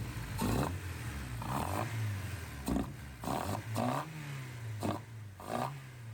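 A Honda K20a Type R engine with individual throttle bodies sits running on an engine stand, its idle rising and falling in repeated sharp blips, each rev a brief snarling burst over a steady low hum.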